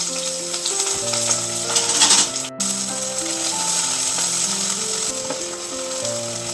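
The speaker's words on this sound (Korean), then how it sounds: "양파를 넣어서 볶아주세요." Onions stir-frying in a hot oil-coated pan, a steady close sizzle with scraping and stirring, and a brief sharp knock midway.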